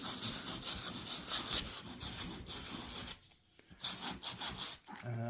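Steady abrasive rubbing on the vinyl of a Lay-Z-Spa Helsinki hot tub around a puncture, roughing the surface before a patch goes on, a close scratchy back-and-forth that pauses briefly midway and then resumes.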